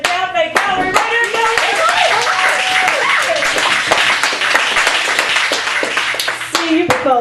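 Audience at a poetry open mic at the Cafe Gallery in Chicago claps and applauds steadily, a dense, loud patter of many hands with occasional sharp individual claps, while a voice speaks over it.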